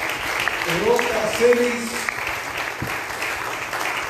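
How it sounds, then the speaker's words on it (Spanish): Guests applaud a wedding couple at a reception, a moderate wave of clapping beneath an announcer speaking over a microphone. "Vamos a pedirle, por favor, un aplauso fuerte a Dima Cabolfo"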